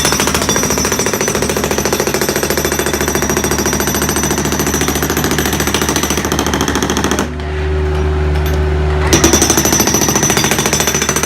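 A jackhammer pounds continuously at close range in rapid, steady bursts, briefly changing pitch midway before resuming its loud hammering.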